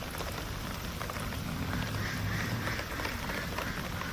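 Rain falls steadily on a water-lily pond, a dense even patter of drops on water and leaves, heard close and continuous without voices.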